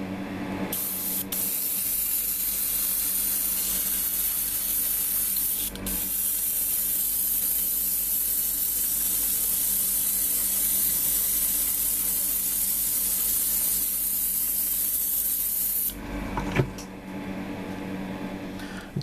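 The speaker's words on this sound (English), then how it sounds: "Doing a clear coat flat clear Mr." An airbrush sprays Mr. Color 182 flat clear coat onto a plastic model kit, a steady close hiss that runs nearly continuously with a few brief interruptions before stopping.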